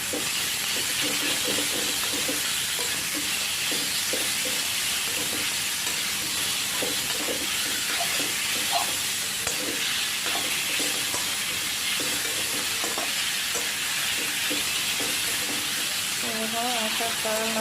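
Leafy greens fry and get stirred in a hot pan, a steady broadband sizzle and hiss running throughout with scattered soft scraping and clinking from the stirring, no talk over it.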